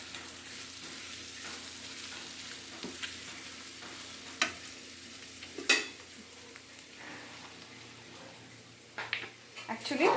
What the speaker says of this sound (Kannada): ಈ ಸೈಡು ಪನ್ನೀರು ಫ್ರೈ ಆಗ್ತಾ ಇದೆ